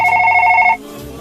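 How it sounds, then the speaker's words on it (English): A phone's loud, steady electronic ring sounds for under a second and then stops abruptly, leaving a quiet room tone. "Why's my phone ringing?"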